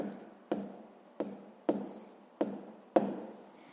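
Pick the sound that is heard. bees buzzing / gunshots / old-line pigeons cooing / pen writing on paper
pen writing on paper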